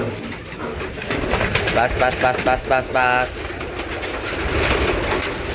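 Pigeons being released coo in repeated throaty calls amid fluttering wing flaps, with a person speaking briefly nearby.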